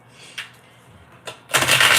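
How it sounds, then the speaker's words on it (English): A deck of tarot cards is shuffled: a few soft card taps and slides, then a dense, close papery riffle that fills the last half-second. "in the pre-shuffle, I don't know if y'all seen, but like cards are already kind of falling out"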